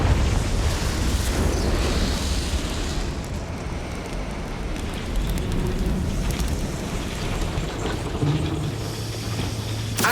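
A Confringo fire spell explodes in the Hogwarts Legacy game on Switch, a loud, sustained, roaring blast rumble that churns on without a break, with no voices over it.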